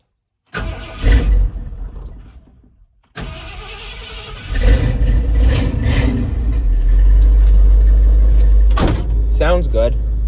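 An old truck with a modified 351 engine cranks with a door thud, then settles into a loud, steady, deep idle close by, with people talking over it.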